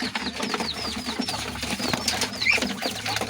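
Flyer pigeons beat their wings in quick flurries during winter training, the flapping repeated and fairly close, with faint coos and a few thin chirps in the background.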